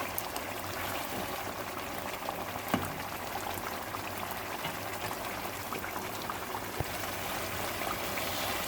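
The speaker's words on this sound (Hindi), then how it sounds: "ये देखिए हमारा पानी बस खुशक हो रहा है" Water simmers steadily in a pan while cooking chicken, a dense, continuous bubbling hiss with occasional small pops, close and unbroken.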